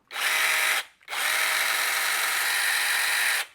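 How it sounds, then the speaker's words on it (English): A Beverin 10 electric chainsaw motor whirs at high speed in two bursts, a short run, a brief stop, then a longer steady buzz before cutting off. "So this is the Beverin 10 electric chainsaw"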